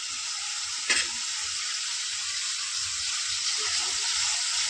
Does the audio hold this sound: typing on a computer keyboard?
no